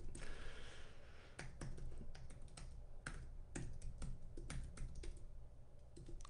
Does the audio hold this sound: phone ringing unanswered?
no